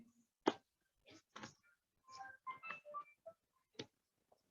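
A mobile phone rings during an indoor qigong walking class, giving short, separated electronic tones and bursts spread across a few seconds in an otherwise quiet room, with no talking.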